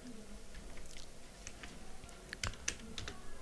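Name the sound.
typing a profile title on a computer keyboard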